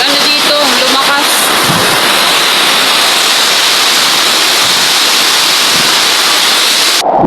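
Typhoon wind and heavy rain lash a spot in Bicol, a loud, dense, unbroken hiss and roar filling the clip, with faint voices briefly at the start.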